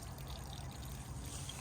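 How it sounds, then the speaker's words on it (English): Wastewater pouring from the drain pipe of a Chausson 630 motorhome's waste tank, a faint, steady rushing trickle of water with no talk. "any wastewater will come out of"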